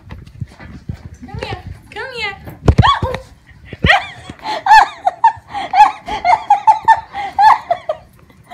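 A puppy gives high, whining yips and squeaky barks in quick bursts. Close, lively voices and laughter mix in between the calls.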